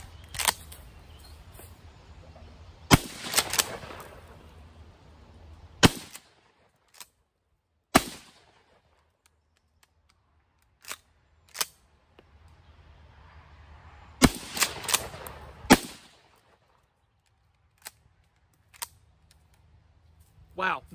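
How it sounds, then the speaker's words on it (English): An old shotgun fires a few sharp, loud reports spaced several seconds apart. Each blast rings out briefly, with quieter mechanical clicks and short handling noises between the shots. "I like this shotgun quite a bit."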